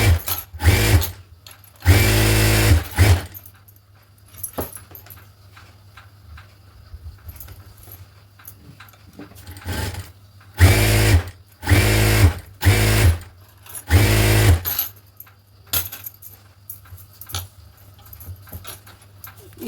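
A sewing machine stitches tucks along a blouse hem in loud, separate bursts of a few seconds each. Quieter handling sounds from the cloth and machine fill the pauses between runs.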